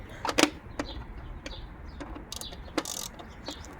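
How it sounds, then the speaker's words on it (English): A ratchet loosens engine bolts, giving scattered sharp clicks and short mechanical bursts at close range over a low background hum. "With this one, I'll loosen these bolts up."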